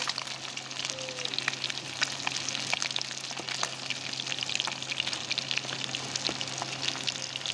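Fish fries in a pan of oil with a continuous crackling sizzle and scattered sharp pops, moderately close and fairly quiet, with faint background noise and no talk.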